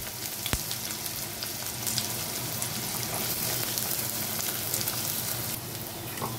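Chopped onion frying in hot mustard oil, a dense, continuous crackling sizzle close up that holds steady throughout, with a sharp knock near the start and no voices.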